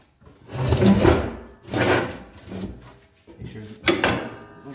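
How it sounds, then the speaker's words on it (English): A Case 446 snow blower unit (L84 snow caster) slid into place, with loud near scraping and grinding bursts of metal sliding, several pushes in a row, and talk mixed in. "start sliding the whole unit closer"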